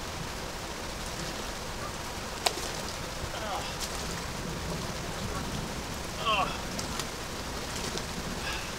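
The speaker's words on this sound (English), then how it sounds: "this is just light rain at this point" Light rain falls steadily by a river, a soft, even hiss throughout with a few faint drips and ticks, calm and fairly quiet.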